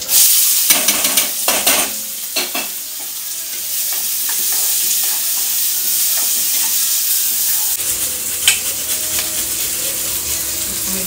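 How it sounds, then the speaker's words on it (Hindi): Onion and chili frying in hot oil, a loud steady sizzle with scraping stirs and occasional clinks of a utensil against the pan. "इस प्याज और मिर्चे को डाल देते हैं"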